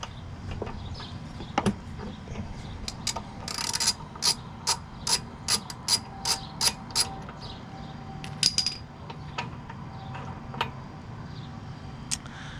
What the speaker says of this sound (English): Now pull out spark plug socket and ratchet.